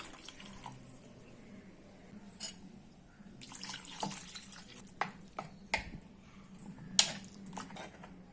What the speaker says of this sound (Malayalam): നമ്മൾ അരച്ച ആ ജാറിൽ കുറച്ച് വെള്ളം ഒഴിച്ചിട്ട്